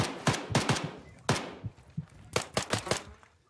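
Rapid gunfire in the military shooter game Arma 3, loud sharp cracks arriving in short bursts and single shots with brief gaps, close up and with no talk over them.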